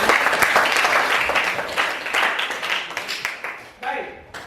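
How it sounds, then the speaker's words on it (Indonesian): Participants in a high school teacher training session burst into loud applause that fades out over a few seconds. "Oke, tepuk tangan teman-teman."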